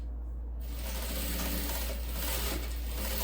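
A sewing machine stitches a reinforcement seam across the top of a strap on a lightweight children's bag, a steady continuous mechanical whir running close and alone throughout.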